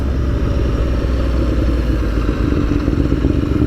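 An Aprilia V4 Tuono Factory motorcycle engine under way, a loud, close, continuous rumbling growl with steady rough pulsing and no talk over it.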